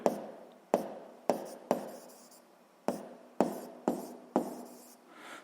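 A pen or chalk writing out a seventh-grade physics problem's solution, eight distinct tapping strokes at an uneven rhythm, each trailing into short scratching, close and clear with no voice.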